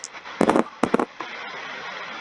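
Dice for an Axis and Allies board game clatter in two quick close bursts, rattling briefly before settling, with no talk.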